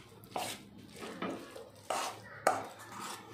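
Motichoor ladoo mixture being stirred with sugar syrup, giving soft scraping and sticky stirring strokes with a few sharper knocks of the spoon against the vessel, moderately faint and with no talk.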